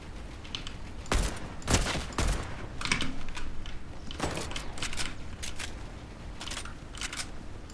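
Rapid bursts of video game gunfire with sharp cracks and scattered single shots, fairly close and dense, over a steady background hum.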